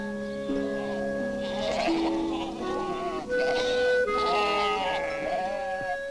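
Himalayan mountain goat herds bleat a few times, mid-distance calls over a soft orchestral score with sustained tones, while someone narrates over them.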